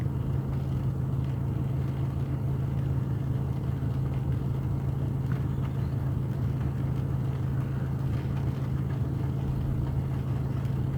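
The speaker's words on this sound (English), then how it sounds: "I probably shouldn't be running the car." Steady low engine hum of an idling car, constant and unchanging throughout, heard from inside with no talking.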